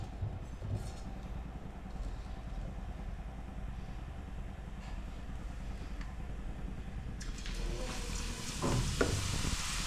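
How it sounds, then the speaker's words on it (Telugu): Boondi batter dropped into hot oil for laddu, a faint continuous sizzle over a low rumbling background, growing brighter and louder near the end as frying picks up. "నూనె కాలిందమ్మా, ఈ బూందీ వేసుకుందాం."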